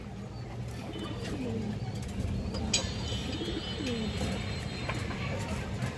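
A male Dragon-line pigeon coos softly several times, low and rounded calls rising over a quiet background hum, close by and unaccompanied by talk.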